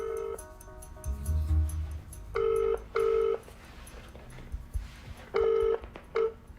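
Telephone number dialed on a phone keypad, with two pairs of short, loud, clear tones and then two more, alone with faint background rumble and no talking.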